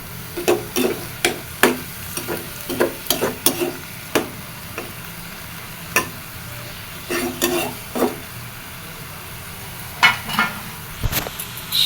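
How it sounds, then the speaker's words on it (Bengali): Leafy greens with salt and turmeric are stirred in a pan, with repeated irregular scrapes and taps of a spoon against the metal over a low, steady sizzle. "লবণ হলুদ দিয়ে খুব সুন্দর মতো মিশিয়ে"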